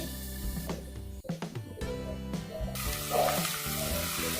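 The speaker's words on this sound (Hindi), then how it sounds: "प्याज को अब अच्छे से भून लेते हैं।" Chopped onion and green chili frying in a pan for a stuffed karela dish, with a steady sizzle and a few clattering knocks of stirring near the start.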